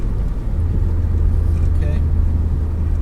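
A car engine drones loudly and steadily at close range while changing down from fifth to third gear, a constant low rumble with road noise and no clear break.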